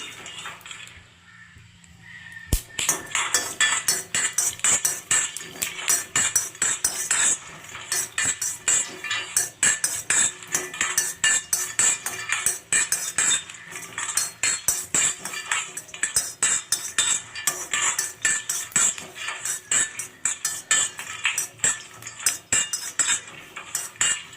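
Dosa batter is beaten in a bowl with rapid, rhythmic clinking and scraping, loud and close, continuing steadily after a short quiet start, with no voices.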